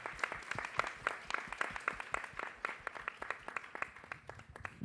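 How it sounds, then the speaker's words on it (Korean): Congregation in a church sanctuary clapping for a student who has just shared a testimony. Separate hand claps land in a quick, uneven rhythm, heard from a moderate distance at fairly low volume. "박수 부탁드립니다"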